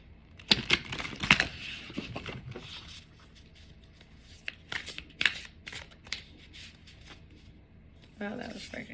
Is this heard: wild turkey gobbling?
no